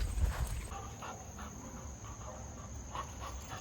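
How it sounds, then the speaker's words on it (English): Young hound pups, six and four months old, pant and whimper softly at close range during outdoor raccoon training, with a steady low background rumble. "These my hounds."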